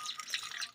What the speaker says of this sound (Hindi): पानी भाग रहा है रोक उसको, दिव्यांश पानी भाग रहा है रोक